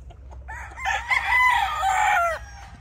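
A young stag rooster crows once, a loud, clear cock-a-doodle-doo that rises and then trails off over about two seconds, close by on a farm among pullets, with no talking.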